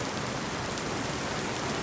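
Heavy rain pours down steadily during a severe Miami storm, forming a dense, loud, unbroken hiss with no voices over it.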